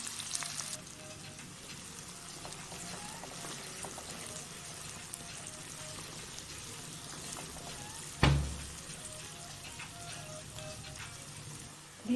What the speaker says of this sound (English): Now we will fry the onions till they are golden brown.